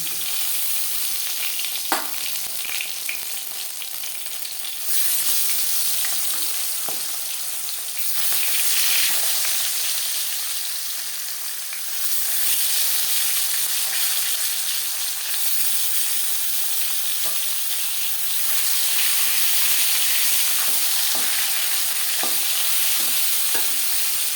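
Foli fish fry in oil in a wok, a loud, steady sizzle that swells in waves, broken by occasional sharp taps and scrapes of stirring.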